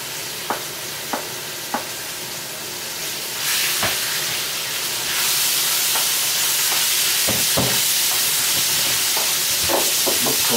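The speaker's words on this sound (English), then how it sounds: "we're just going to stir fry it until it gets done" Meat sizzles and hisses loudly as it is stir fried in a hot wok, a steady frying roar that swells partway through, punctuated by scraping stirs and clanks of the utensil against the pan.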